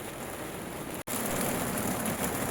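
Steady, heavy rain pours down continuously in Latvia by the Baltic Sea, with a brief instant of silence partway through before the hiss resumes.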